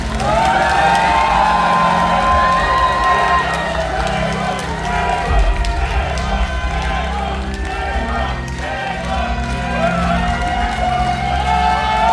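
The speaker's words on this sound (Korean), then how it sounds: "뜨거운 박수로 맞이해 주시기 바랍니다" A large crowd at a Korean political party rally cheers and claps loudly and steadily for a candidate's speech, with whoops and shouts blending into a continuous roar.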